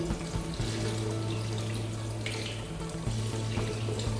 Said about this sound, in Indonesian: hasil cetakan kita bersihkan di air mengalir hingga benar-benar bersih